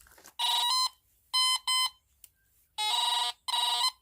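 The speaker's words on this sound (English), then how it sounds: "this machine has an overload signal, and an overload is when the coil is almost touching a metal object" A Teknetics Delta 4000 metal detector gives its overload signal, with its coil almost touching a metal object: loud, close electronic beeps in a broken rhythm, two doubled bursts followed by two longer ones, with brief silences between.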